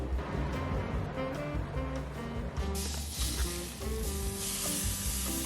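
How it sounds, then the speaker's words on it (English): Steady, crackling sizzle of sea bass searing skin side down on a hot grill, continuous and close, with a brighter hiss swelling partway through. "We're going to put the sea bass in the grill now."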